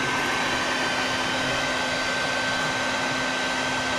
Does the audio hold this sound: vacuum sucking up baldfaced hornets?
yes